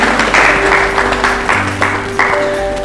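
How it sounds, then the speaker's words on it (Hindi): Audience applause at a church gathering, given as a reward for a correct quiz answer, with rapid handclaps that swell in several bursts, steady and close, with no voices over them. "यस, ताली बजा सकते हैं।"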